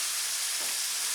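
Ground beef browning in a frying pan: a dense, even sizzle, hissing continuously and close with no breaks.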